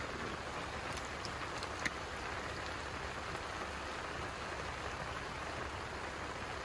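Rain falls steadily at a rainy-day campsite, a soft, even hiss with scattered faint drips throughout, fairly quiet and continuous with no voices.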